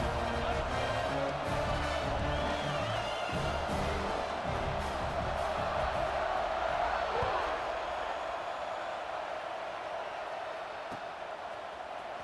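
A packed stadium crowd roars steadily at a college football game in EA Sports College Football 26 before a kickoff, a dense wash of cheering that swells midway and eases off toward the end, with no talk over it.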